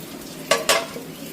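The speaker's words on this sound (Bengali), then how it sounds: "আর এটা পেঁয়াজ আর লঙ্কাটাকে ভাজি" Onion and chili frying in a pan: a low background sizzle broken by two quick, loud stirring scrapes close by, then a faint clink near the end.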